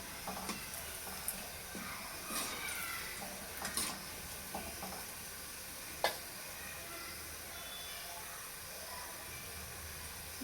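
Bhaji fritters fry in hot oil over a full gas flame with a faint, steady hiss, broken by occasional clicks and light clinks of a utensil.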